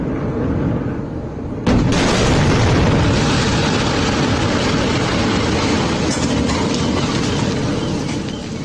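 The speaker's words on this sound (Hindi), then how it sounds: "देखिए बड़ा धमाका और इसके बाद ये घर तबाह।" A loud explosion tears apart a house in the West Bank, a sudden blast followed by a long, heavy roar of rumbling debris that lasts for several seconds.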